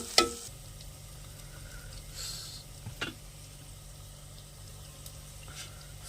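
Brinjal tomato curry with ginger paste is stirred in a pan, a faint steady sizzle with a few soft spoon scrapes against the pan scattered across the quiet stretch.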